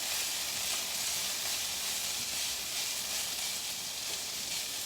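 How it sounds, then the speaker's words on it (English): Crisco shortening melting and heating in a heavy-bottom pot, giving a steady, bright sizzling hiss that stays constant and fairly loud throughout. "I got some Crisco melting, heating up in this heavy bottom pot"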